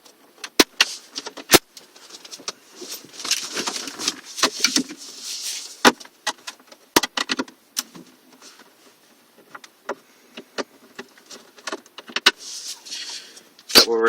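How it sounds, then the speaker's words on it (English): Two T20 screws come out of the side of a Land Rover Freelander centre console: a close run of clicks, ticks and scraping taps with rattling handling noise in between, fairly loud and without speech. "We now undo the 2 T20 screws on the side."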